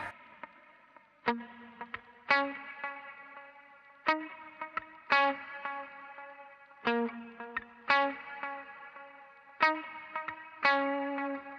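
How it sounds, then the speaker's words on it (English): A Jazzmaster electric guitar plays a sparse, clean phrase through a dotted-eighth delay and reverb, each plucked note repeating in rhythmic echoes that ring and decay between chords, heard alone and fairly quiet. "it starts off with this dotted 8 delay at the correct tempo"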